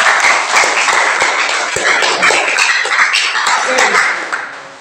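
Classroom applause for group 2 during a student presentation on marriage in Islam, a dense wash of clapping from a small class with a few sharper taps, steady for several seconds before tapering off.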